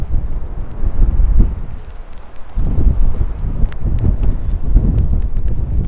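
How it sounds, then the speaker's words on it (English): Strong wind blows outdoors in coastal Rhode Island after a series of snowstorms, roaring steadily and buffeting the microphone in loud gusts that dip briefly midway before surging back, with no voices. "It's windy."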